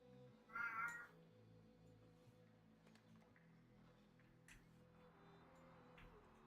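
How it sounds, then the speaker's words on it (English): A single short, clear cat meow rises near the start, then fades under a steady low hum and soft background music in a city-building game session. "The cat is here."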